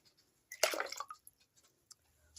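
Water is poured into two liters of a homemade blended drink remedy for white chickens, a short splashing pour of under a second followed by a few faint drips in a quiet room.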